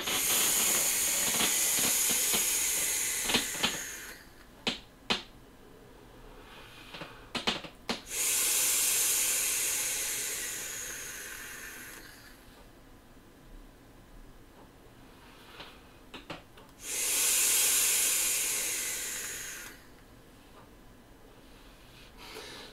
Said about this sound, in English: let's take this for a vape